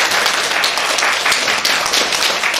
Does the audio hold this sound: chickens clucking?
no